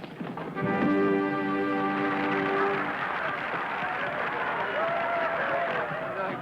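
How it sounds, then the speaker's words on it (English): An audience applauds in a theatre after a stage show, a dense, steady wash of clapping that fills the whole stretch, with a sustained musical chord fading out under it at the start. "Hey, listen to them. They're still applauding."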